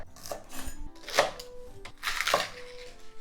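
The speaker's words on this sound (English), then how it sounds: "So first thing, I'm going to cut up the scallion." A knife chops scallion on a cutting board in a home kitchen, a few crisp, close taps in short uneven bursts with quiet pauses between them.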